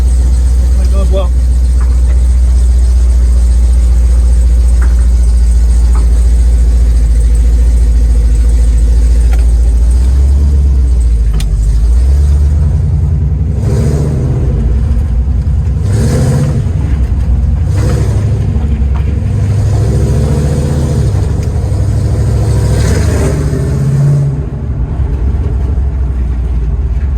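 A 1969 Dodge Charger with a swapped-in Hellcat engine rumbles steadily on the road, its low drone loud and continuous with rising and falling pulls, while people talk over it.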